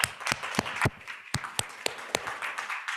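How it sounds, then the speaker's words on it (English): An audience at a literary keynote talk applauds, a fairly sparse patter of individual claps with a few sharp, distinct hand claps standing out, not very loud. "Please give them an applause."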